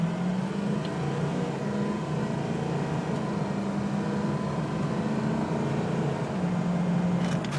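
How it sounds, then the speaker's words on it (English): A 2006 Ford F250 4x4 crew cab diesel with a turbo drones steadily under acceleration, heard from inside the cab with no talking over it. "Watch the turbo."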